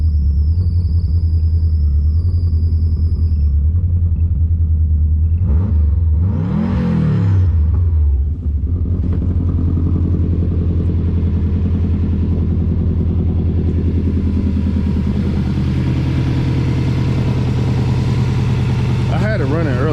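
A Caterpillar engine running warm with a deep steady rumble and low idle throb, one rising rev near the middle, loud and close throughout.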